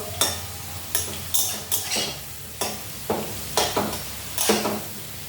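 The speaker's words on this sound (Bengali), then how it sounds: "এই দেখো, ভাজা হয়ে গেছে প্রায়।" Soybean food sizzles in a pan while a utensil stirs and scrapes in regular strokes, close and fairly loud.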